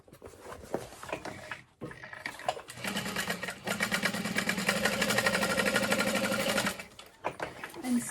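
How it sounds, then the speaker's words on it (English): Sewing machine back stitching a vinyl seam. It starts with brief bursts, then runs in a steady rapid mechanical chatter for about four seconds before stopping, close and fairly loud. "I'm going to back stitch at the start, and then I like to back stitch over that seam to help reinforce it"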